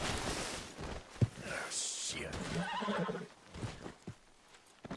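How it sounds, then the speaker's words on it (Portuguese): Horse in the Red Dead Redemption 2 game, loud whinnying and snorting with clip-clopping hooves, mixed with someone talking throughout. "Cavalo."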